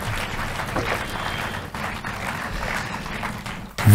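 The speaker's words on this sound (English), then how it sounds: "Ladies and gentlemen, please, a big round of applause." A crowd at a book discussion on the Levant applauds at the close of the talk, continuous clapping at moderate level that swells louder right at the end.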